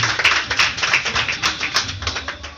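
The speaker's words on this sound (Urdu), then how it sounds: "زوردار تالیوں سے آپ بتا سکتے ہیں" Sustained clapping from a church congregation during an Urdu-Hindi sermon, a dense patter of hand claps with a few sharper accents, steady and fairly close throughout.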